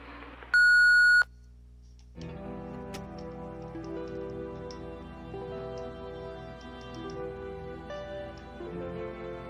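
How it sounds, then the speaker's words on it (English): A single loud electronic voicemail beep in the video game Thimbleweed Park rings out for about half a second, followed by faint, steady tonal background hum. "Leave your message after the beep"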